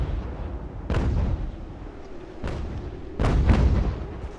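Mortar artillery fire in the Ultimate General: American Revolution battle game, with several heavy booming blasts at uneven intervals over a steady rumbling battlefield backdrop, with no talk.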